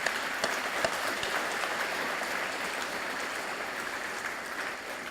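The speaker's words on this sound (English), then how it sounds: "So a round of applause for all the award winners." Audience applause for winners at an environmental education awards ceremony, a steady dense wash of clapping that fills the whole stretch at even loudness with no voices over it.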